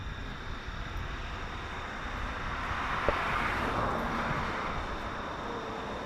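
A Boeing 777 airliner at Toronto Pearson airport roars as a broad, steady engine rush that swells slightly toward the middle and stays loud and close, with no talking.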